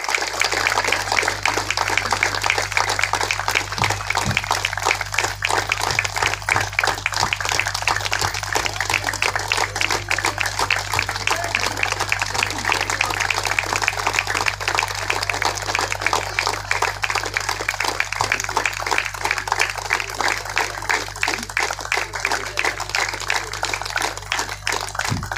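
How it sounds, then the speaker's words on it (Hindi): Sustained applause from an audience at a political party district committee meeting in Latehar, Jharkhand, a dense, steady wash of clapping that continues unbroken at even loudness throughout. "तो आप लोगों की तालियां लगातार बजनी चाहिए।"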